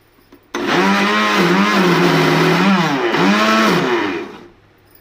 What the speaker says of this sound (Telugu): బాగా మిక్సీ పట్టుకోవాలి